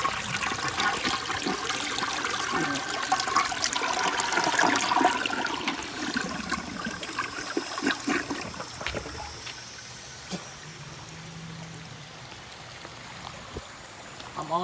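A vintage toilet flushes with a loud rush of water that gradually settles into a softer trickle and refill as the bowl rinses.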